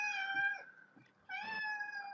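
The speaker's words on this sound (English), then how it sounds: "Yeah, that's my cat." Domestic cat meowing twice at close range, two drawn-out tonal cries separated by a short pause, clear and alone in a quiet room.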